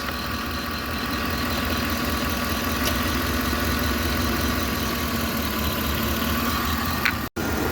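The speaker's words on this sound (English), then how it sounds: "I just had to let the vehicle run a little bit" A car engine idles in one steady, even rumble while the A/C is being recharged, with a faint tick partway through and a sudden brief dropout just before the end.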